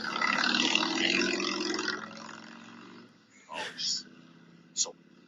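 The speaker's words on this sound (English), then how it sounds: "We got a motorbike now." A loud motorbike passes close by, its engine roaring strongly at first and then fading away, followed by a couple of brief bursts of speech.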